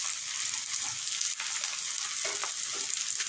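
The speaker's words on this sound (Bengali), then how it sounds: "মশলা কষানো হয়ে গেছে একদম। মশলাটা গন্ধ ছেড়ে দেখুন একদম তেল তেল হয়ে গেছে।" Spices frying in oil in a pan, a steady close hiss and sizzle with faint stirring scrapes, heard alone throughout.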